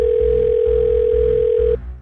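Outgoing phone call tone with a steady pitched beep over a pulsing low hum, held for nearly two seconds before cutting off.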